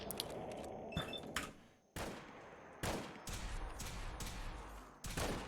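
M1 Garand rifle shots in Fallout 4 with the Horizon Overhaul mod, several sharp separate reports spaced out over a few seconds, close and fairly loud against a low background rumble.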